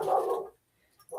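A single short dog bark rings out indoors, close and fairly loud, followed by a brief pause and the start of another sound.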